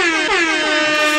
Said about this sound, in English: Let me give you an air horn, man.